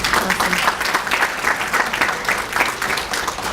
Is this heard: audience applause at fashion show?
yes